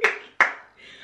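Two sharp hand claps, close and loud, spaced about a third of a second apart and fading quickly, with a little faint voice sound after them.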